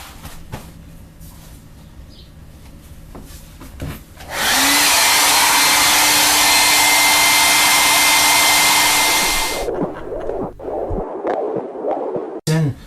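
A hair dryer blows on a not-quite-dry painting, switching on loud and close with a steady roaring whoosh for about five seconds before cutting off, quiet room sound on either side.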